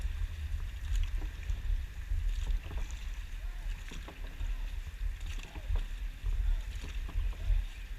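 A dragon boat is paddled outdoors on open water, with repeated soft splashes and dips of paddles under wind noise and low rumble, while people talk faintly.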